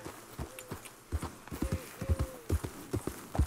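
Horse hooves clip-clop in a steady walking rhythm in the video game Red Dead Redemption 2, close and fairly quiet, with a few soft tonal sounds over the top.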